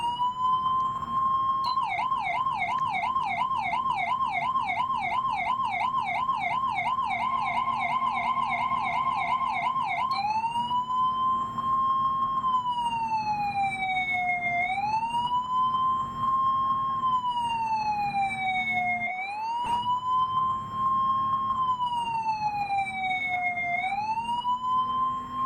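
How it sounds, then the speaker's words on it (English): An emergency siren on a 1980-1982 police car wails nearby, first in a fast warbling yelp, then switching to slow rising and falling wails over a low engine rumble. "let's put the siren on"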